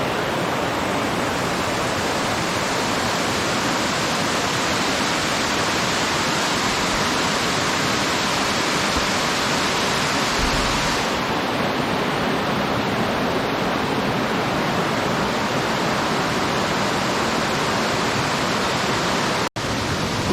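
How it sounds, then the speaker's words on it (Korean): Twin mountain waterfalls, Geumgang and Eolluk falls, pour side by side in a remote mountain gorge with a dense, unbroken rushing roar that stays loud and constant throughout. "이 폭포가 양쪽으로 이렇게 있는 것 같죠. 한쪽은 금강폭포고 한쪽은 얼룩폭포라고 합니다"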